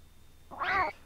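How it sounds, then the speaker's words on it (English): A single short cat meow from the video game Clock Tower, clear and fairly close against a faint quiet background. "Stupid cat."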